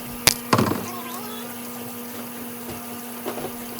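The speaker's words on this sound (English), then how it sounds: "Now we're just going to rinse the chicken with some cold water." Cold tap water runs steadily as raw chicken is rinsed, a continuous rushing stream with a couple of sharp knocks early on and a soft splash later.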